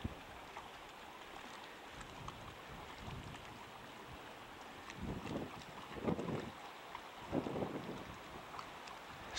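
Steady outdoor wind rushing and buffeting the microphone beside the Green River, with stronger gusts swelling toward the end; no voices.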